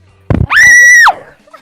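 A voice lets out a loud, close, sustained scream, imitating a character screaming as he runs out of a bar, after a brief sharp sound at the start.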